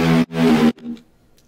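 A heavily processed synth lead run through EQs that cut the lows and boost the highs, plus compression and distortion: two loud, sustained buzzy notes followed by a softer, fading third note.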